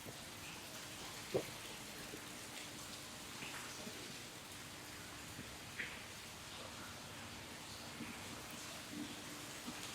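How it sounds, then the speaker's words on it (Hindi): Steady rain falls at a coffee estate in Coorg, India, a soft, even hiss of drops with a few faint isolated ticks, distant and quiet throughout. "बारिश हो रही है अभी भी, आप लोग देख सकते हो।"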